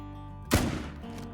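A single rifle shot fired at a blacktail deer while hunting in the game Call of the Wild: a sharp, close crack with a short rumbling tail.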